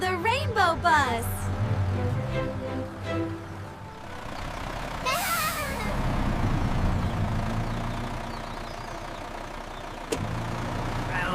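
A children's rainbow bus engine idles and rumbles steadily. A sharp burst of hissing air brakes cuts in midway, and music and chatter play over the whole stretch.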